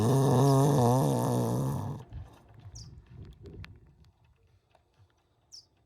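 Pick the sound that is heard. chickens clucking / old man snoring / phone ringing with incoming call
old man snoring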